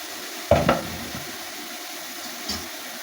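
Drops of sweet boondi batter hit hot oil in a frying pan, giving a steady soft sizzle with a louder splash of bubbling near the start and a smaller one later, close by and with no one talking.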